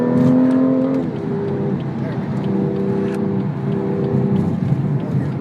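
A BMW M2's engine revs high, drops as it downshifts, then pulls again under acceleration, heard from inside the car with a steady roar.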